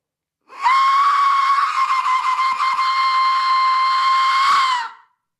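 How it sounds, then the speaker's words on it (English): A loud, sustained shrill whistle blast holding one steady pitch for about four seconds, then cutting off, alone without speech, used as an elimination signal in a music tournament. "Let's blow the whistle."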